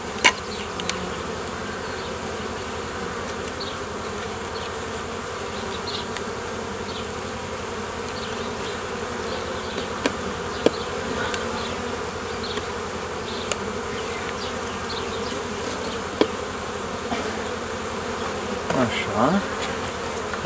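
Honeybees humming around a beehive entrance during a colony merge, a continuous buzzing drone with a few sharper passes of individual bees flying close, no voices.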